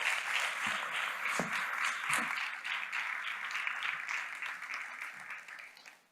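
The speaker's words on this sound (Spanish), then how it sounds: "Les pido por favor un aplauso para él." Audience applause at an evening talk in Montevideo, welcoming speaker Diego Bernardini: a steady, dense wash of many hands clapping at moderate volume for about six seconds, tapering off at the end.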